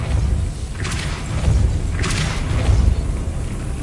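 Two forceful whooshing bursts with dull booming thuds mark the Depulso force spell being cast in Hogwarts Legacy, each burst a second or so apart over a low, steady background rumble.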